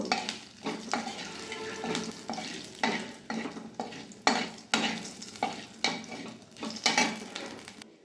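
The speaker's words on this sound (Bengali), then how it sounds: "এবার তেজপাতা একটা শুকনো লঙ্কা এলাচ অল্প একটু জিরে ফোড়ন দিলাম ফোড়নটা এবার ভেজে নেব" Bay leaf, dried chili, cardamom and a little cumin fry in hot oil, with a steady close sizzle broken by repeated scraping stirs of a utensil against the pan, each stroke a brief louder burst.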